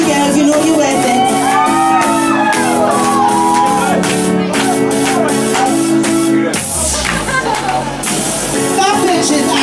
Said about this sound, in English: So if you want to scream, if you want to shout, please feel free.